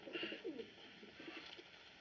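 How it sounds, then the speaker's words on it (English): Soft, faint coos from a United States Army carrier pigeon, a few gentle throaty calls clustered near the start, then quieter murmuring in a still room. "United States Army Carrier Pigeon number 13576."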